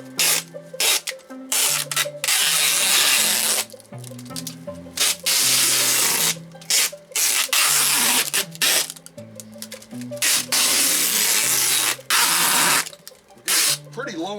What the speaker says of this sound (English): we're going to anchor down all of this stretch wrap on the body